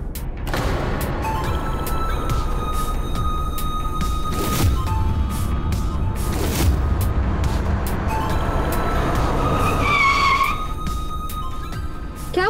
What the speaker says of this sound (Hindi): शुभम यहाँ पे क्यों गाड़ी रोकी अचानक से?